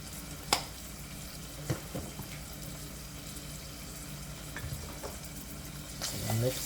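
Black pepper and thyme being mixed into Jamaican saltfish seasoned rice in a pot, with soft scraping and stirring over a low sizzle, a few sharper clinks of the spoon against the pot.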